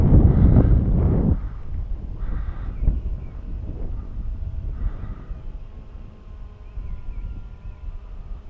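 Outdoors while flying an RC plane, gusty wind buffets the microphone with heavy low rumbling, strongest at the start, then steadier blustering with faint distant caws in between.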